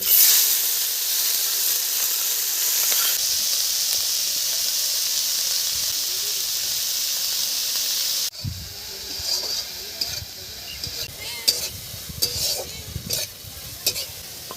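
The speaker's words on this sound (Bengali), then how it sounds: "কড়াই তেল দিয়ে দিয়েছি চিংড়ি মাছগুলো ভেজে নেব" Prawns fry in oil in a wok, first as a loud, dense hissing sizzle, then after an abrupt change as a quieter crackle with scraping stirs and clinks.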